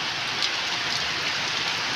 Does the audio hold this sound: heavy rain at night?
yes